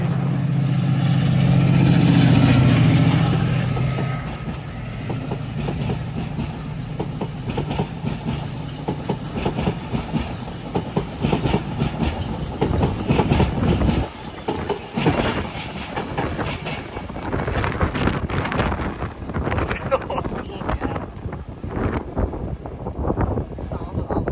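A train passes at London Marylebone or Princes Risborough station on the Chiltern Main Line, with a loud low engine roar that builds and settles into steady rolling wheel clatter, heard close under brief excited voices.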